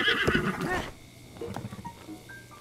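A horse whinnies in Breath of the Wild, a loud rising neigh for the first second over game sound, followed by quieter in-game noises and faint tones.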